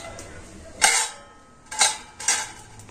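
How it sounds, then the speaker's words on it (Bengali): A steel plate is set onto a stand inside a pot over boiling water, giving three sharp metallic clanks spaced about a second apart with quiet between them. "আর এখন আমি স্টিলের থালাটা স্ট্যান্ডের উপর বসিয়ে"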